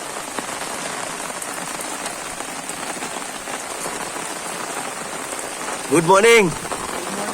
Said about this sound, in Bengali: দেখো কি রকম ভাবে বৃষ্টি শুরু হয়েছে।